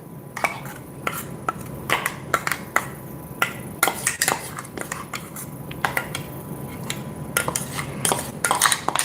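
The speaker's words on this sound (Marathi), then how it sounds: "आता ही चटणी एक बाउलमध्ये काढून घेऊयात" A spoon scrapes and clinks against a steel pan and bowl while dal chatka chutney is spooned out, with a string of irregular sharp metallic taps, close and clear, and no talking.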